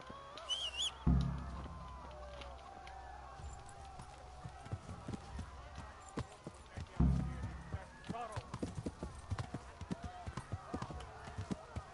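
Horse hooves clip-clopping while riding in the video game Kingdom Come Deliverance, a quick irregular patter of steps with two heavy thuds, alongside bird calls.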